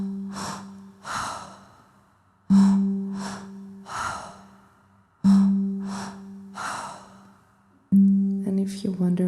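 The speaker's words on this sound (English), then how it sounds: "So your inhale is split into two, and your exhale is just a relaxed release of the air." Breathing exercise in which each inhale is split into two quick sniffs followed by a relaxed, audible exhale, repeated in a steady cycle three or four times, close and alone with a low hum underneath.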